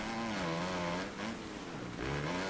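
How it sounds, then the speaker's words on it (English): Motocross bike engine in the MXGP 2021 video game, revving continuously with rising and falling pitch as the throttle is worked through a low-speed corner, loud and steady. "just kind of feather the clutch, just a little quick flick, and you get a little bit, kind of spool up again, get the revs back up in the engine"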